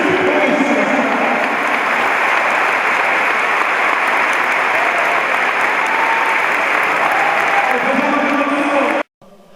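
Applause from an audience at a religious assembly celebration, a dense sustained roar of clapping that fills the hall and cuts off abruptly near the end.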